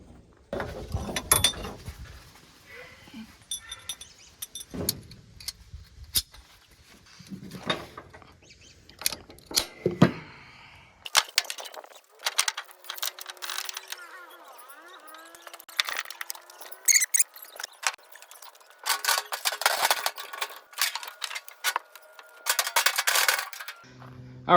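Ratchet straps are undone on a flatbed trailer, bringing irregular metallic clicks, ratcheting rattles and buckle clanks in scattered bursts with quiet gaps, close by, with faint voices and birds in the background.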